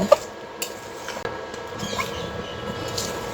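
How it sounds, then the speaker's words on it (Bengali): Metal spoon scraping and clinking in a pot of thick beef kala bhuna gravy while masala is stirred in, a few sharp close taps over a quiet background. "এখন এটা নেড়ে চেড়ে মিশিয়ে নেব"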